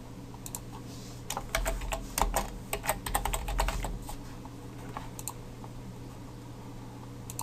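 Rapid keystrokes clatter on a computer keyboard in irregular bursts, close and clear over a low steady hum, with a few later taps trailing off.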